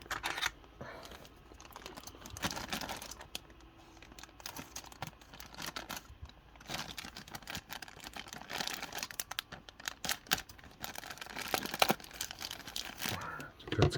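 Small snips and clicks of nippers cutting a plastic part from its runner among crinkling and handling noises, close up, with a voice speaking briefly.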